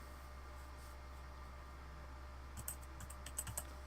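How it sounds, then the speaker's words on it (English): Fingers tap a computer keyboard in a short, quiet burst of clicks over a low steady hum, in a scene from the game Steins;Gate 0. "The only sound in the room was of Dara's fingers on the keys."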